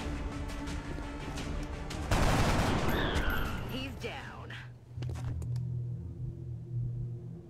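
Gunfire from the turn-based strategy game XCOM: a loud burst of game shots and crashing impact that begins abruptly, then trails into a low rumble, with talk running through the clip.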